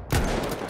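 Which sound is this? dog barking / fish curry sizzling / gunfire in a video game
gunfire in a video game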